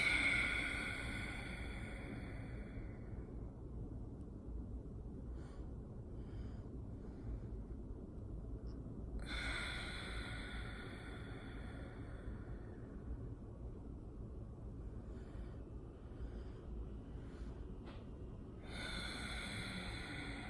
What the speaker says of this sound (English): we'll take 3 breaths in, small breaths, and then we'll exhale as much as we can, fully deflating those lungs